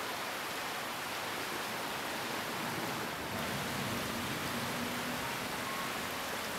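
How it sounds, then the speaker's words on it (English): Steady broadband rushing of shallow river water over gravel on the Guadalupe River where king salmon spawn, with a faint low splashing swell midway as a fish flushes sediment from the gravel bed. "The king salmon flushes sediment from between the gravel to make space for eggs."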